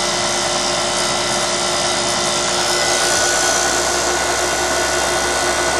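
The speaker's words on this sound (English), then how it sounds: "You can hear the compressor changing tone." A York heat pump compressor runs while refrigerant is being charged. It makes a steady, loud, close mechanical drone with a faint tonal whine and no voices.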